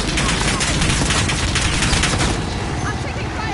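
Gunfire in a Call of Duty match, a continuous loud rattle of rapid shots and impacts filling the whole stretch, with a voice faintly present underneath.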